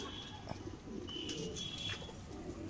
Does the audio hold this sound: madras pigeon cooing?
yes